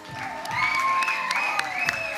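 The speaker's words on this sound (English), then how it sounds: "Give him a big round of applause." An audience at a pageant show claps and cheers, a steady swell of applause with crowd noise and some whistle-like tones rising and holding throughout.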